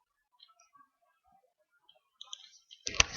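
A single sharp computer mouse click while drawing a 3D box in AutoCAD, landing near the end after faint, sparse background talk.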